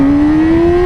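A 2017 Yamaha R6 sport motorcycle engine revs toward 8,000 RPM, giving a loud, close, steady whine that climbs slightly in pitch over a brief moment.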